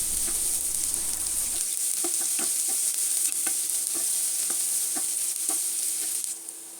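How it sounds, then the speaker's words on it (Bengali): Chopped onions, two large ones, fry in mustard oil for a chickpea curry, a steady bright sizzle running throughout with repeated scraping stir strokes against the pan, close and fairly loud, no talking. "দুইটা বড় সাইজের পেঁয়াজ কুচি দিয়ে দিচ্ছি পেঁয়াজগুলো হালকা ব্রাউন কালার হয়ে আসা পর্যন্ত ভেজে নিচ্ছি"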